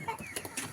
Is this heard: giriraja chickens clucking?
yes